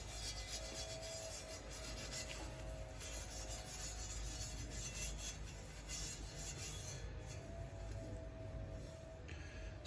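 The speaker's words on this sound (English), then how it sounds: "that's the clean-up done with the steel wool" Fine steel wool rubbed over copper plumbing pipe in a steady continuous scrubbing rasp, close and fairly quiet, running throughout with no speech.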